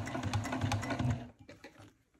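A sewing machine runs slowly through bulky layers of a clutch wallet, its rapid stitching loud and steady for about a second, then giving way to a few scattered quieter clicks and fading to near silence.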